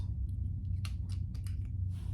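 Scissors snip through material during sewing of a Jordan pouch on a domestic machine, several short crisp cuts spaced irregularly over a steady low room hum, close and moderately quiet.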